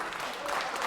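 MPs clap in the House of Commons chamber during a heated debate, a short burst of scattered applause with voices talking over it.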